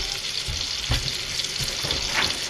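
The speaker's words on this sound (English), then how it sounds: "get it in the skillet with butter" Butter sizzles and fries in a skillet, with a close, steady crackle and a few louder pops and spatters scattered through it.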